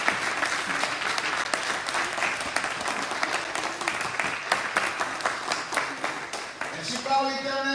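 A church congregation applauds and cheers in worship, steady dense clapping throughout with voices mixed in, easing into talk and sustained tones near the end.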